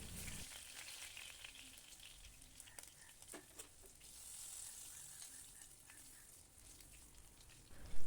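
Fish sizzles and crackles steadily in hot frying oil for a fish biryani, a continuous close hiss with scattered pops and spits throughout, ending with a brief louder clatter.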